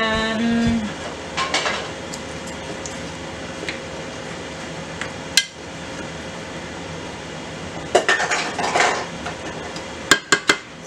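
A metal lid clanks onto a cooking pot of pinakbet vegetable stew, with a few sharp clinks and knocks in the later part over a steady kitchen hiss.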